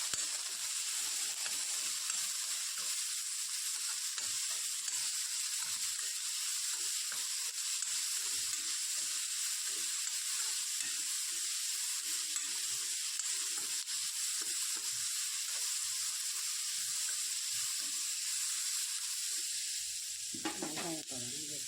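Chopped onion fries in a pan for a horse gram lentil powder dish, a constant hiss and sizzle with soft stirring scrapes, ending in a brief clatter.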